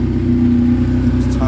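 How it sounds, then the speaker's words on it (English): A car engine idles and revs with a steady, close low drone, heard briefly and alone. "Car sounds really healthy."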